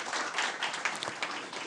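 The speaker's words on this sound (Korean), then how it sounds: "여러분 박수 좀 부탁합니다." A short, dense burst of audience clapping fills a forum hall, steady and fairly close throughout with no speech over it.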